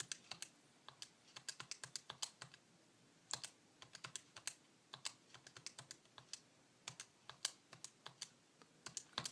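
Crisp, quiet key presses as data values are typed into a calculator, coming in quick irregular bursts with short pauses, close up and with no voices.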